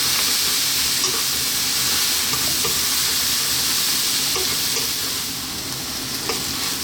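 Cabbage and egg stir fry is mixed continuously in a pan, a loud dense sizzle with steady scraping and tossing strokes close up, easing slightly toward the end, no talk.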